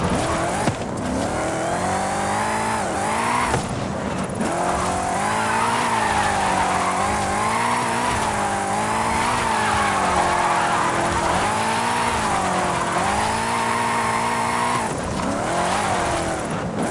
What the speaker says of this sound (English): Drifting uphill